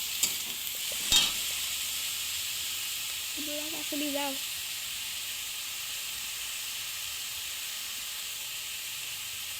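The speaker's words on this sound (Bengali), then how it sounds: "এবার বাঁধাকপিটাতে যখন যতক্ষণ না অন্য রং চলে আসবে ততক্ষণ কিন্তু ভাজা বন্ধ করা যাবে না" Cabbage frying in a pan, a steady quiet sizzle and hiss with a sharp stirring scrape near the start, while a voice speaks briefly in the background.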